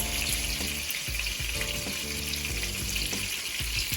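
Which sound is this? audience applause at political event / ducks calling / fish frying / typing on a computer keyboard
fish frying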